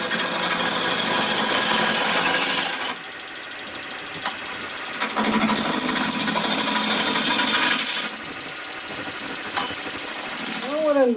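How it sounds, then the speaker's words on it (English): A bowl gouge cutting wood on a lathe while shaping a baseball bat: a steady, loud scraping whine with rhythmic mechanical chatter that shifts in tone as the tool moves along the spinning piece. "I'm using my bowl gouge,"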